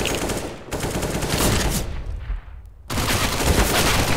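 Rapid automatic gunfire in Counter-Strike: Global Offensive on the Mirage map, with dense continuous bursts, a short break and a resumed volley, loud and close with no talk.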